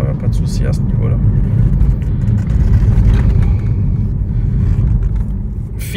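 BMW 1 Series with a manual gearbox, engine rumbling steadily and loudly while driving, constant low drone throughout, with someone talking over it.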